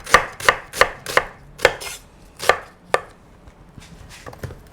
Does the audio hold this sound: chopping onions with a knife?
yes